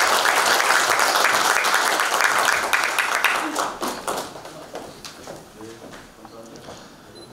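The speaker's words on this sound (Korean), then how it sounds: "여러분 박수 부탁드리겠습니다" Audience applause at a plaque presentation ceremony in a Korean political lecture hall, a dense burst of clapping that stays loud for a few seconds, then thins out and fades with scattered claps and some talk underneath.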